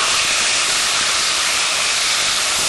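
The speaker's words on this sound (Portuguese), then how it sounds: "Agora a gente joga as alcaparras. Dá aquela fritada assim, ó." Capers hitting hot oil with garlic and frying, a dense, steady sizzling hiss that stays loud and even throughout, close up with no voices.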